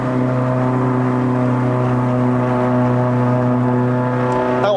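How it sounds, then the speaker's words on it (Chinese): Exhaust drone from a five-speed manual Perodua Bezza 1.3L Premium X climbing toward Genting, a steady loud multi-tone hum held throughout with a brief rising note at the end. "你的 exhaust 声音呢，有一点像 Boxer engine 排出来的声音哦"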